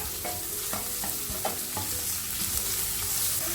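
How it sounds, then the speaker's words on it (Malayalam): Finely chopped onion fries in hot oil for a prawn chilli, a dense continuous sizzle with a few light stirring clicks from a spatula, close up and fairly loud, with no talking. "ഓയിൽ ചൂടായതിലേക്ക് ഒരു സവാള ചെറുതാക്കി കട്ട് ചെയ്ത് ചേർത്ത് കൊടുക്കുക."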